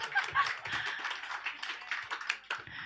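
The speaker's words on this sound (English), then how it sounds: "So round of applause for the French guy" A stand-up comedy crowd at a Lviv hall gives a modest round of scattered, fairly soft clapping mixed with a few chuckles.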